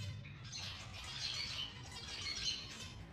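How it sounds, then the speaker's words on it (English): Budgies in an aviary chirp and squawk continuously in a busy chatter, moderately close, with no talking. "I'm really happy with how these new budgies are settling into their new aviary."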